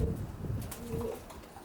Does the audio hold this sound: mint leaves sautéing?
no